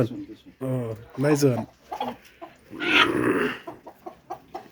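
A rooster clucks nearby while people talk over it, the bird's calls mixed in with the conversation.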